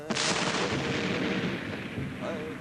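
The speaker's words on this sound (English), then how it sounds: "When the Indians arrived at the fort, its cannon greeted them" A fort's cannon fires in a sharp, booming blast at the start, followed by a long rolling rumble and decay that trails off, with a second, softer report near the end.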